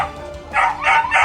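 A dog barks three times in quick succession, loud and close, after a brief quieter lead-in.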